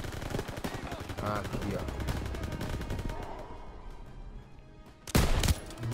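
Rapid bursts of Call of Duty WWII gunfire crackle throughout, with a louder blast near the end, while someone speaks briefly over it.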